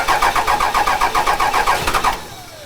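A Cummins diesel engine cranks right after a VP44 injection pump install, with a steady rhythmic starter chug of about fifteen even beats. It stops abruptly into a fading whine, loud and close, with no voices.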